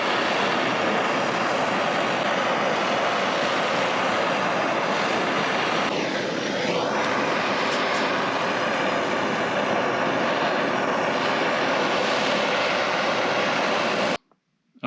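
Big torch roaring steadily as it heats the back piston of a 1939 Caterpillar D4 engine block, a loud unbroken close-up rush lasting until an abrupt cutoff, without talk.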